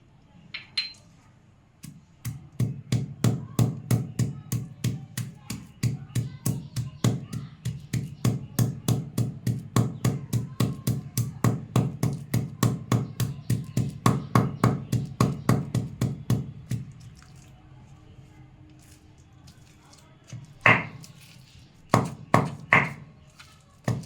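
Black cardamom pods, four of them, pounded into a paste with a steady run of sharp, evenly spaced thuds for about fifteen seconds, a pause, then a few louder, scattered strikes close up, with no talking.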